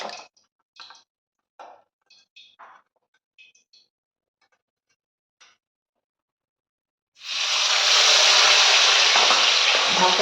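Fish frying in oil in a wok. A few faint, short voiced sounds come first, then a loud, dense hissing sizzle starts suddenly and continues steadily, close up.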